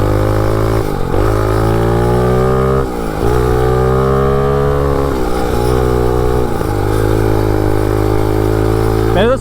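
MotoVox minibike with a 200cc dirt bike engine revving hard while ridden, loud close engine rising in pitch repeatedly between brief drops as gears change, with a voice speaking over it.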